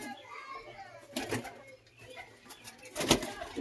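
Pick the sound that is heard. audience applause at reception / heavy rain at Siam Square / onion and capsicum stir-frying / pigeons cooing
pigeons cooing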